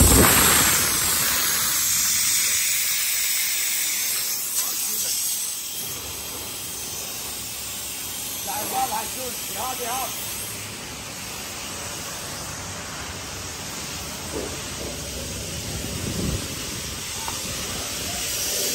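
Steam cleaning a car at a maintenance shop: a continuous loud hiss of steam that runs throughout, with faint clatters and bumps beneath it.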